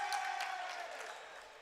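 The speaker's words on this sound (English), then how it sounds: "Loud round of applause there." Crowd applause at a Durham College men's basketball game against St. Lawrence College, a steady wash of clapping and cheering filling the gym at moderate distance with no clear voices.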